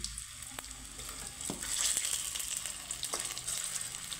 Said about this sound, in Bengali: তো দেখো এখানে আমি লাল লাল করে কোপ্তাগুলো ভেজে নেব বন্ধুরা